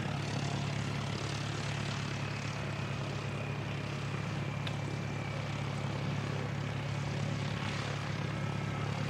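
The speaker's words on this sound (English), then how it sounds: "Jetstar 172 on the move. It's heading across to Melbourne." A Jetstar airliner moving at Christchurch Airport gives a steady, loud engine roar with a constant low drone, unbroken and heard alone throughout.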